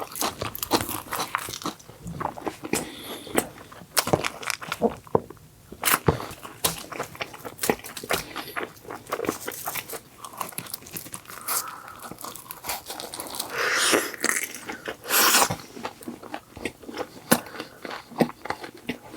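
Close, loud crunching, biting and chewing of Domino's potato pizza topped with extra mayonnaise, in irregular bursts of wet mastication and crisp crunches that run steadily with no talk.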